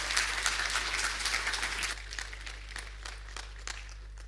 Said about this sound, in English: please give a big round of applause here for Advaita